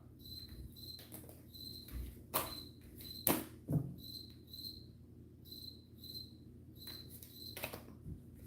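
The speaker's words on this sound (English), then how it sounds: "I've got weird crickets chirping at the door" Crickets chirp just outside a door at night in short, regular bursts, with a few soft taps and knocks in between and no talking.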